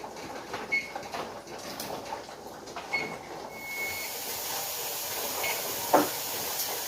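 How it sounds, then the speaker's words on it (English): Pressure canner venting steam while processing vegetable broth, a continuous airy hiss that grows steadier partway through, with a few faint clicks and knocks nearby. "my canner is finally starting to steam out steadily too"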